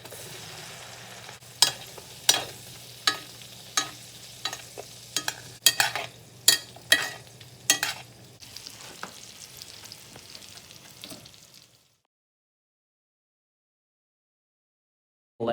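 Steak sizzling in a pan while being basted with butter, a steady fry hiss broken by regular spoon scrapes and clinks for about twelve seconds before cutting to silence.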